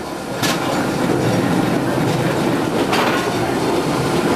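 Locomotive mules running on rails at the Panama Canal's Pedro Miguel lock, a loud, steady rumble of rolling wheels with brief metallic squeals, heard close by with no talk.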